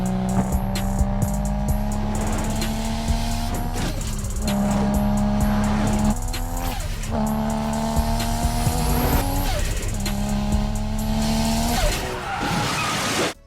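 A red car in the Dead Rising video game drives hard with a constant loud engine drone, its tires squealing and skidding repeatedly through sharp turns over the whole stretch.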